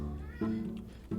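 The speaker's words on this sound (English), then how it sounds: "That's my cat" A pet cat named Samba meows twice in a short, clear burst, with a second shorter call after a pause, over faint room background.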